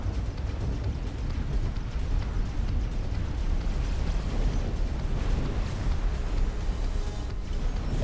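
A ship blowing up in the space game X4: Tides of Avarice, heard as a sustained low rumbling roar that fills the whole span at steady loudness, dense and boomy rather than a single sharp crack.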